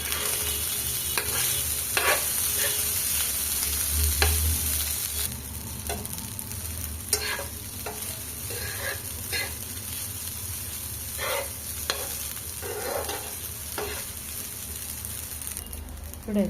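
Cooked rice tossed and stirred in a hot pan, giving a steady close sizzle with repeated scraping stirs throughout, and no talking.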